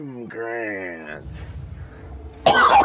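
A single fake cough from a man, voiced and harsh, comes after a stretch of speech-like harmonic tone, followed by a loud noisy burst near the end.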